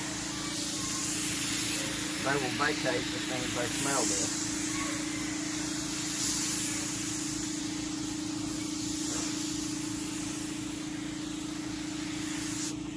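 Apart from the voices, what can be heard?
HVLP paint gun spraying Helmsman spar urethane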